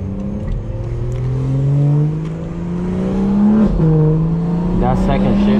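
A tuned BMW 440i with 75k miles accelerates hard, its engine note climbing in pitch, dipping sharply at a gear shift, then rising again. A voice is heard in the cabin over the engine.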